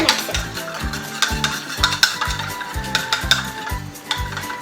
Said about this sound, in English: And I can use this fork to mix it.